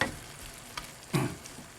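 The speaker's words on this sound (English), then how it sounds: "So I'm just mixing everything in now." Curried aubergine and kale fry quietly in a pan, soft sizzling broken by a few scraping stirs of a spoon.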